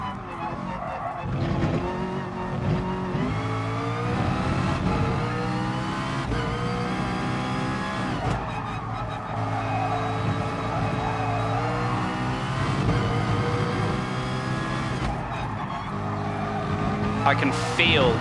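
A McLaren race car in a racing video game, sliding around under braking: a continuous, loud engine drone rises and falls with shifting revs, with brief tyre scrubs during the run.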